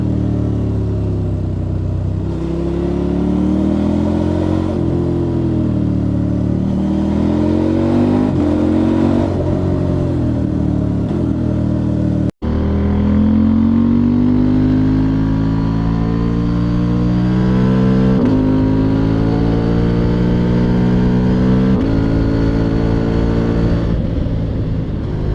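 A KTM 75-degree V2 motorcycle engine revs loudly and close, its pitch rising and falling through repeated throttle blips with a sustained throaty drone, cut by one sharp break midway.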